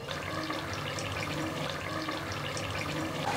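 Water pours steadily into a pan of chicken gravy, a continuous splashing, trickling rush that stays even throughout with no voices.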